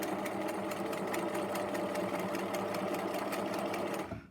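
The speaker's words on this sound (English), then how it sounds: "lining the ribbon up here again with the crease, folding the binding over, and then stitching in a straight line down" Sewing machine stitching fine ribbon into a folded binding for spaghetti straps, a steady, close, continuous mechanical whirr with rapid regular needle ticks, running alone until it stops abruptly near the end.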